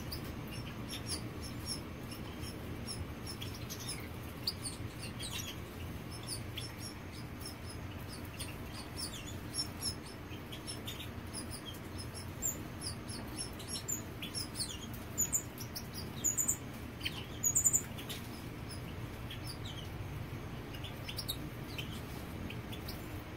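Captive goldfinches in a breeding cage chirp in faint, scattered high tweets over a steady low background hum, a male begging to be fed by a hen, with no talk.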